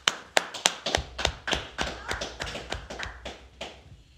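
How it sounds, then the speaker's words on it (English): A small audience claps in uneven, separate hand claps that build into loose applause at a law class, sharp and close with no voices. "Let's clap it up."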